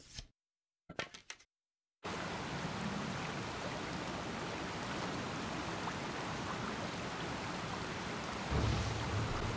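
A thunderbolt spell in Baldur's Gate sets off thunder and pouring rain, a couple of brief crackles followed by a dense, steady downpour with a deeper rumble near the end, no talk.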